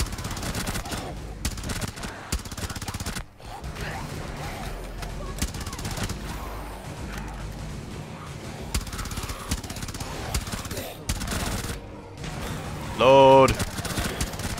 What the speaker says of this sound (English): Oh, don't run into gunfire.